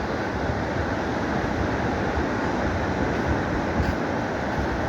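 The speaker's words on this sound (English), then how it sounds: "Just cool listening to the waves." Ocean waves rolling onto a beach as the tide goes out, a steady broad wash of surf with light wind, heard from the shoreline with no voices.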